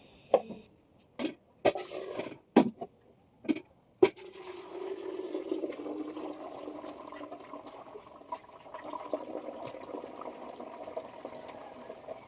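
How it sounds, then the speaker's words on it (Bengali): Starchy water drains off a pot of boiled rice in a home kitchen: a few sharp clicks and knocks, then a steady, fairly close stream of pouring and splashing liquid that runs on without a break. "তো সেটার ফ্যানটা ঝেড়ে নেব।"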